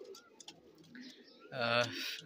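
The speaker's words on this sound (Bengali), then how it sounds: "এখন দেখেন কবুতরটা ঠিক চলেই আসলো" A pigeon coos softly a few times close by, low murmuring calls, followed by a louder burst of talking.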